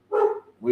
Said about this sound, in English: that apparently that's the dog telling me it's time to go